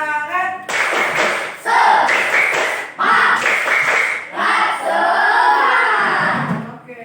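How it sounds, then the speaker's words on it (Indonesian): A group of people, likely children, claps the rhythmic spirit clap known as tepuk semangat in patterned bursts of quick claps with short pauses, mixed with voices chanting along loudly and close. "supaya gak ngantuk kita tepuk semangat lagi yuk"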